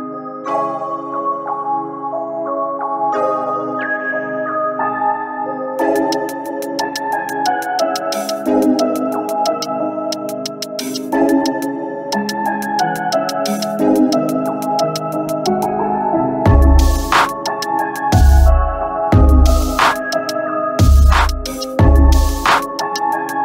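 Produced beat with master compression and saturation distortion: melodic synth or keys over ticking hi-hat-like clicks, with heavy booming kick hits entering in the second half, loud and dense, no voices.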